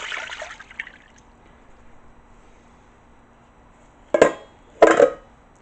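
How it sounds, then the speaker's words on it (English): Water poured into a mixing bowl while making Chicago deep dish pizza dough: a soft pour at the start, then two short, louder splashing bursts near the end, close and otherwise quiet. "into my bowl I'm adding the water"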